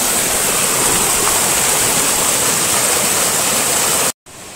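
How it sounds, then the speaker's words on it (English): A loud, steady rush of falling water from Ram Falls in the Alberta Canadian Rockies fills the air, a broad continuous roar that cuts off abruptly near the end. "That little bit of the waterfall was a nice little ending touch."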